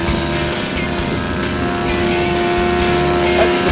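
An electric-powered model airplane flies at a steady distance, its propeller producing a continuous even drone with a faint tonal whine, and no talking.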